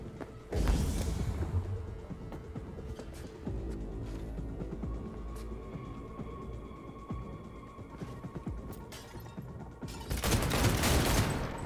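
Shotgun blasts ring out in the Cyberpunk 2077 video game, loud bursts amid dense gunfire and throbbing, rumbling action sounds, with a heavy burst at the start and another near the end.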